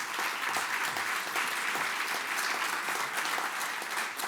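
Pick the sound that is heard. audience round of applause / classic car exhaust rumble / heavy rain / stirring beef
audience round of applause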